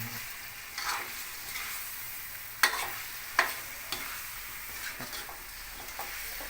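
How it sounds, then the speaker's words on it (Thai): Eggs are stirred into tomato and shallots in a hot pan. Soft sizzling runs underneath while scraping strokes come at irregular intervals, with several sharper utensil knocks standing out. "เดี๋ยวเราจะใส่ ไข่ลงไปนะครับ แล้วก็ คนให้มันเข้ากัน"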